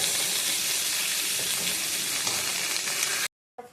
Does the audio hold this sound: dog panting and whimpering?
no